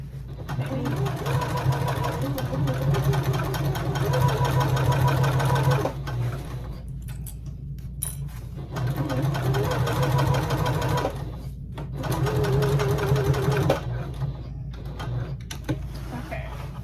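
A sewing machine stitches a tote bag in long runs of rapid, even mechanical whirring with brief pauses between passes, a person talking over it at times.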